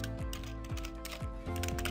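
Someone types on a computer keyboard, producing a quick, steady run of close, crisp key clicks over a low background hum, without any talk.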